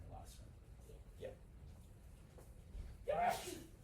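A single sneeze bursts out near the end in a quiet classroom, brief and fairly close, following low murmuring room noise with faint voices.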